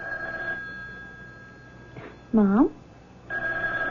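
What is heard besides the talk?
telephone bell ringing in radio drama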